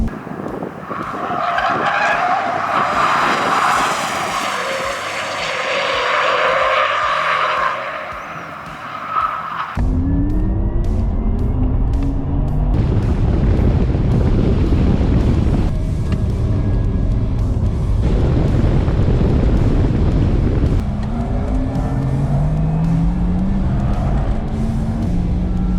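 A Porsche Taycan Turbo S electric car driving hard at Inje Speedium: a whining, rising electric motor tone, then loud tire squeal and skidding with rushing road and wind noise, close up.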